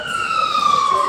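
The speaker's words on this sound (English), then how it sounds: "ambulance." An ambulance siren wails on a city street at Union Square, one loud, close tone sliding slowly downward in pitch.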